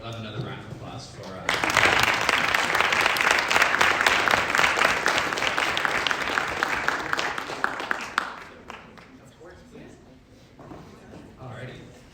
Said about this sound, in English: So I would love another round of applause for